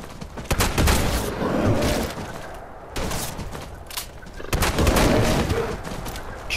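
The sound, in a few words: gunfire at a bear in a video game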